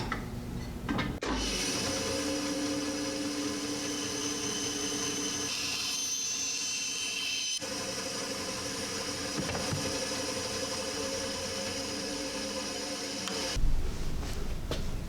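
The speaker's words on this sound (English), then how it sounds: "bandsaw close, followed by final sanding" A bandsaw runs steadily as it cuts a DIY wooden spanner wrench close to the line, a constant whining hum with a faint blade rasp, starting up and winding down at the end.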